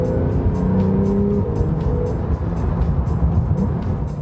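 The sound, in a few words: Porsche 911 turbocharged engine sound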